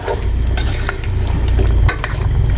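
Adobo frying in a pan with plenty of onions and garlic, a loud continuous sizzle with scraping stirring strokes close by, no voices.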